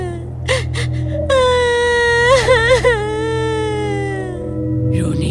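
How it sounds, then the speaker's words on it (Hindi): A ghostly woman's wailing sob drifting through a large old mansion at night, a drawn-out moaning cry with rising and falling pitch, preceded by a few short gasps, over a low droning background. "रोने की आवाज।"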